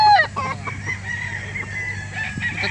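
Chickens and roosters at a poultry market in Calauan, clucking and calling in short bursts over a steady background din, with a possible distant crow near the start.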